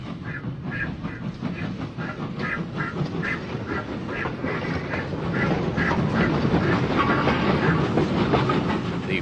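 Lion, an 1838 steam locomotive built for the Liverpool and Manchester Railway, runs along a branch line with a steady rhythmic clatter and chuffing, growing slightly louder toward the end, with no talk over it.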